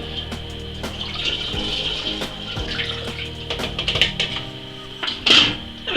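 Water from a kettle is poured slowly over ginger powder to make ginger beer, a soft, steady trickle with a few small splashes and drips close by, with no talking.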